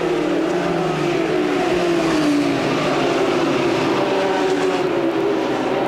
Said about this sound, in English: Tony Raines gets a great jump on Mike Miller.